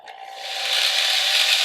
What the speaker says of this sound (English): As I sand, remember that the wood is turning in this direction most of the time.